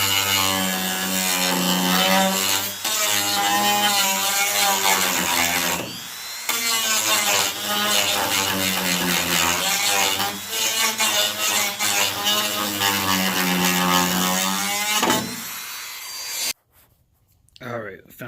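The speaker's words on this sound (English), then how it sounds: "So we're gonna get the grinder and come right here and grind a little bit so we can get the washer thing on there." An angle grinder widens a hole in a carbon fiber hood for a Mustang GT500. It makes a loud, close, continuous abrasive whine in long passes with brief breaks, then stops near the end.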